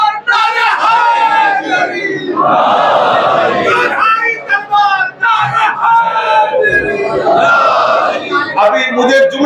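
Loud crowd at a Shia majlis during Ramzan chanting religious slogans in unison, rising in repeated surging waves of massed voices over about nine seconds.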